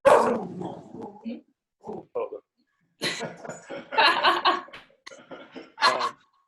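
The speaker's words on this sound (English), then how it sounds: "Dogs." A dog barks in several short bursts, close and loud, with voices and laughter mixed in between.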